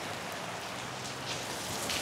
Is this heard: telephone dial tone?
no